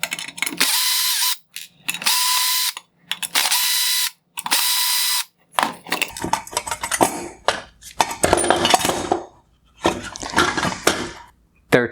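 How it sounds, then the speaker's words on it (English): A power screwdriver backs out the Phillips screws holding the lens on a 2018–2019 Hyundai Sonata OEM LED headlight. It whirs loud and close in several short bursts, then gives way to clattering ratchet-like rattles and handling noise. "Next, I will remove the 4 Phillips head screws holding on the lens."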